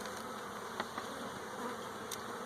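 Honey bees hum and buzz around an open hive in a steady, faint drone, with a few individual bees zipping past the microphone.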